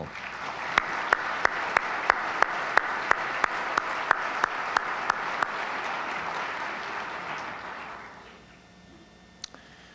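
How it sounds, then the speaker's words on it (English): Audience applause at a university gathering, a steady dense clapping that holds loud for about eight seconds, punctuated by sharp regular knocks, then fades to a quiet room. "is worthy of a great single round of applause"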